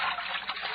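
Water trickling and sloshing in a deep vat of ice-cold water, a short close burst of bubbling liquid that lasts under a second.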